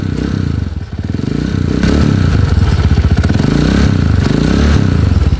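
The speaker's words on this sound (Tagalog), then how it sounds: "Atlantica model TMX 155. Pakinggan natin yung andar mga kabro bago natin i-convert sa 200cc." A TMX 155 motorcycle's pushrod engine idles steadily at close range, a loud chugging rhythm with mechanical clatter, the pitch rising slightly as it is revved, ahead of a 200cc conversion.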